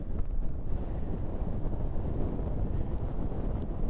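Strong wind buffets a drone's microphone high above the Scottish coast in a storm, a steady, loud, low rumbling roar with no voices.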